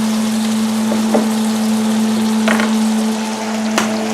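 Burgers frying in a hot pan give a steady, close sizzle with a constant background hum and a few louder crackles and pops scattered throughout.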